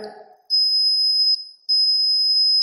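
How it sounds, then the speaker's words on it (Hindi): A homemade laser security alarm's buzzer sounds a loud, steady high-pitched electronic tone, cutting out briefly once before resuming, right after a brief bit of low background noise. "तो ये बजर बज रहा है।"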